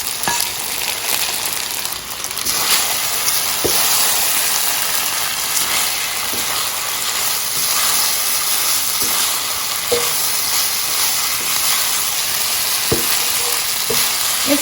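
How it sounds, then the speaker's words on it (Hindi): Egg fried rice made with cold rice and scrambled egg fries in a hot pan, a loud continuous sizzle with occasional clicks and scrapes of stirring. "अच्छी तरह से फ्राई करें ताकि आपके जो ठंडे चावल हैं वो अच्छी तरह से इसमें गर्म हो जाए"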